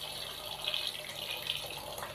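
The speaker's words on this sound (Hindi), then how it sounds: "हम इसके अंदर पानी शामिल करेंगे।" Water runs into a cooking pot for vegetable pulao, a steady close splashing pour lasting a couple of seconds with no talk.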